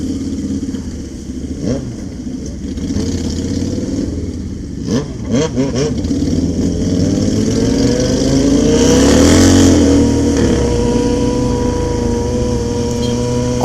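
A Yamaha XT660 motorcycle engine is revved up close, with rising and falling throttle bursts that climb to a loud, sustained roar near the middle before easing back down.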